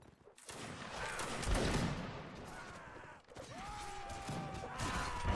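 Musket volley fire in a multiplayer line-battle video game, a dense crackling fusillade of many shots that swells loud and sustained, then a second ragged burst follows with shouting voices mixed in.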